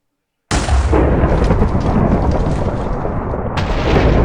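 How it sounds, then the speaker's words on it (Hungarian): A loud, sustained rumble of lightning and thunder used as a signal in a Minecraft Hunger Games match, starting abruptly after brief silence and rolling on with a renewed crack near the end. "Villámjelzések."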